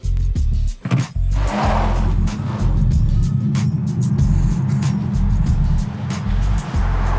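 MG4 X-Power electric car accelerating hard from inside the cabin, a loud steady low drone of motor and road roar that holds and builds, broken by a brief dip and a few clicks near the start.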